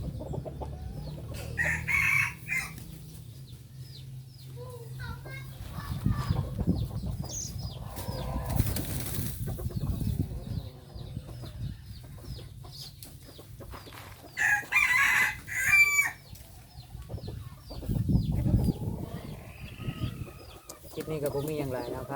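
Young crossbred gamecocks crow and cluck in the evening, with a wing-flapping burst among the birds, the crows sounding close and intermittent while someone talks over them.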